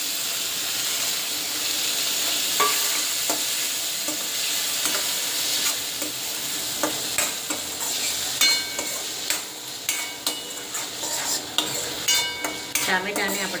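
Chopped tomato sizzles and spits in hot ginger-chili paste in a pan, with steady frying hiss throughout and a spoon stirring and scraping in bursts, growing busier toward the end.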